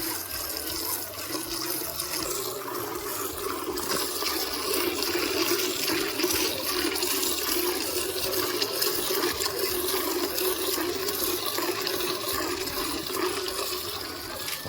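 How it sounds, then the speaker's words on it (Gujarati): A buffalo is milked and milk streams into a pail in a steady, continuous liquid rush, moderately loud and close, with no talking. "આપણી બીજી ભેંસ દોવાઈ રહી છે"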